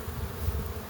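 Honeybees buzz around their hives, a dense close drone of many wings humming steadily with slight swells.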